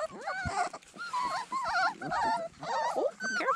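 Black and tan coonhound puppy, about three and a half weeks old, whimpering and yipping in repeated high whiny bursts close by, with people speaking softly in the background.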